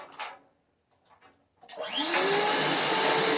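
A workshop dust-collection vacuum switches on after a few faint knocks and spins up with a rising whine, then roars loudly and steadily at close range.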